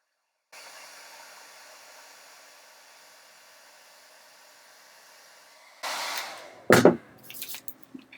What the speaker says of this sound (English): I'm going to use my hair dryer and we're going to shrink it up